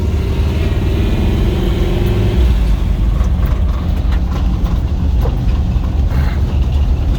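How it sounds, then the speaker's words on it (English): A 1979 Chevy K5 Blazer with a 4-speed manual pulls away, its engine rumbling loud and steady from inside the cab, the tone shifting partway through as it changes gear. "Now typically I take off in second gear with these 4-speed trucks"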